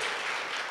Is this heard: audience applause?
yes